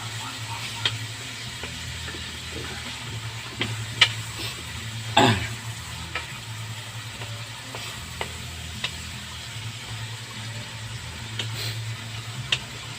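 Fried rice sizzling steadily in a pan while a utensil stirs it, with occasional sharp scrapes and clicks of metal against the pan over a constant low hum.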